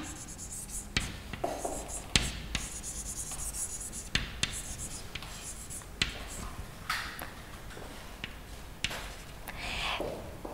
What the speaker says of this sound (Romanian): O să vă scriu două cuvinte.